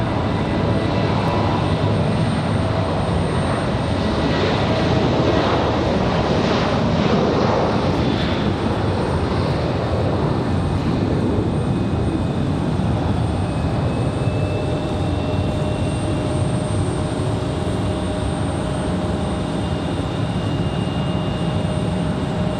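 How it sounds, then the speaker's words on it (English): Jet airliners at Raleigh-Durham airport, including a Boeing 737 arriving from Dallas–Fort Worth, fill the air with a steady, loud engine roar and broad whine that holds throughout, heard at a distance across open ground without speech. "737 from Dallas, Fort Worth. Going to be one of our next arrivals."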